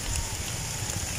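Steady outdoor rain hiss, a dense, even wash of falling drops with no distinct pauses, fairly close and moderately loud.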